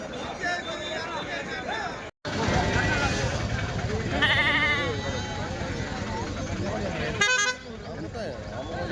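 Sheep and rams bleat at the Tuesday livestock market in Kadiri. Close, loud calls repeat over a busy crowd of voices, and a brief horn-like toot cuts through near the end.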